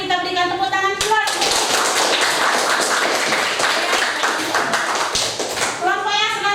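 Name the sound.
class applauding group presentation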